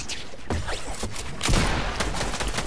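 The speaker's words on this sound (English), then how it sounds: "How is he shooting my ramp?" Gunshots in the battle-royale game Fortnite land on a ramp, giving a few sharp cracks and thuds over a steady busy game background, with the loudest hit around the middle.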